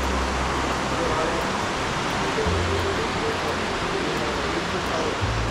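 The river at Baile Herculane rushes below a hotel balcony, a steady broadband roar of flowing water that holds constant and fills the scene.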